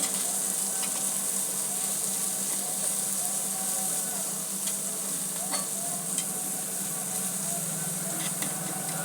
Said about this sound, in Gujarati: સારી રીતે મિક્સ કરી દઈશું.